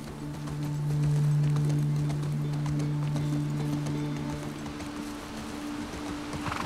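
Horse hooves clip-clop steadily in The Last of Us Part 2, a soft rhythmic plodding under a sustained low hum of game ambience and music.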